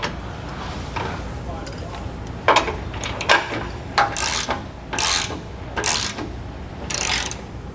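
Bolts on a bracket of a Reese Dual Cam weight distribution hitch being tightened, heard as a string of short metallic ratchet clicks and rasps that grow louder and more regular toward the end, with a voice talking at times.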